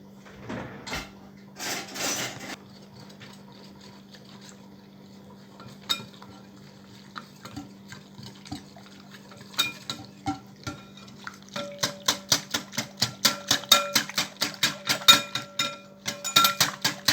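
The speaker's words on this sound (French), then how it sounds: "Et on va mélanger." A spoon mixes flour and cold water together for harira soup. Scattered clinks and scrapes against the bowl build into quick, rhythmic tapping strokes, fairly close and moderately loud, with no voices.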